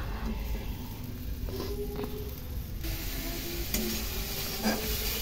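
Cumin, chilli and ginger paste masala frying in oil with salt and turmeric, a continuous close sizzle with intermittent stirring scrapes, no talking.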